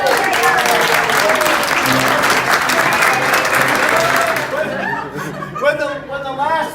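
An audience claps loudly for Chef Joseph at a grill where steaks are cooking, steady dense applause mixed with chuckles and laughter that thins out near the end as voices talk over it.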